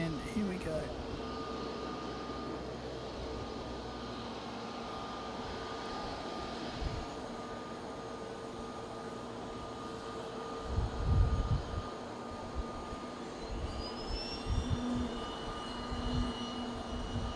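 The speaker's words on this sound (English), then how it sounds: "Another of the Embraers." An Embraer jet at Fukuoka International Airport gives off a steady engine roar and whine at moderate distance, holding throughout with a few louder low rumbles, and some talk sits faintly in the background.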